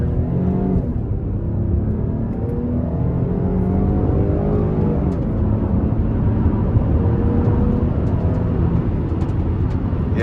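A 2019 GMC Acadia SLE with a front-wheel-drive V6, set to Sport mode, accelerates hard in a continuous loud engine drone that climbs in pitch through the gears, steady and close from inside the cabin.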